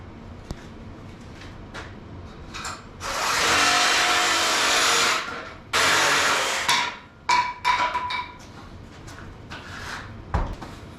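A steel loader handle on a Kubota R430 being cut to length, heard as two long, loud, harsh cutting bursts in the middle with shorter grinding pulses after, plus scattered knocks and clanks of handling.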